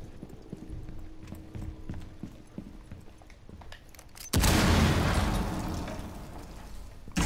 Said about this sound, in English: There's footsteps.